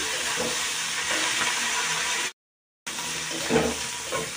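Potatoes and onions sizzle steadily in a hot pan, a constant frying hiss that briefly cuts out, then resumes with a few louder crackles.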